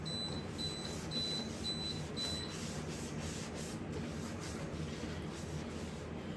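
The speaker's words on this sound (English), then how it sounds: "if you're hearing that buzzer sound, it's just saying my door is open" A thin, high electronic beep from a refrigerator door-open alarm repeats in a quick even series over a steady rubbing, scrubbing noise of cleaning inside the fridge, then stops while the scrubbing continues.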